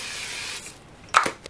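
Cooking oil sprayed into a Ninja Foodi air fryer, heard as a soft hiss followed by a short, sharper burst of spray near the end, close and brief.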